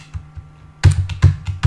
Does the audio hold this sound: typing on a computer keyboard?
yes